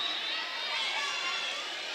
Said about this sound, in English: Mandeville cheering section liked that one.